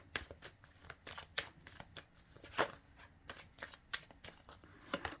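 Tarot cards are shuffled and handled at close range, with a quick run of crisp flicks and riffles, some sharper snaps among them.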